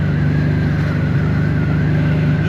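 A 1984 Honda V65 Magna VF1100C motorcycle engine running rough, a loud, steady, close idle drone with a low throbbing pulse and no speech over it.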